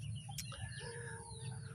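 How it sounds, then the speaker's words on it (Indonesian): Several neighbouring chickens cluck and chirp continuously at moderate distance, layered calls overlapping with a faint crowing tone over steady low background hum. "Ini banyak sekali ayamnya ya. Ini ayam tetangga ini suaranya."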